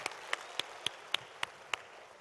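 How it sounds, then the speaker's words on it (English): At a live sales coaching seminar, a handful of single sharp claps ring out at an even, regular pace, about one every quarter second. They are faint and sit over a low room murmur. "Give them a big round of applause."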